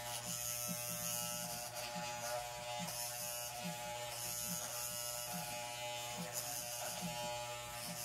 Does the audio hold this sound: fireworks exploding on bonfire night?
no